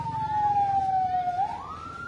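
A fire truck siren sounds during a town fire in Tha Khaek on New Year's Day, its tone holding, dipping slightly and then sweeping upward over a low traffic rumble, with no voices.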